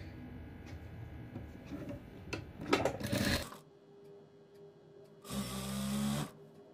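A sewing machine stitching salwar fabric in two bursts, a rattly run of stitches followed by a pause and then a steadier, louder run, with light handling noises between.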